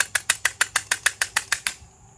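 Broken exhaust cutouts on a truck rattle while it drives, a run of about eleven sharp, evenly spaced metallic clacks that fade out at the end, close and fairly loud with no talking.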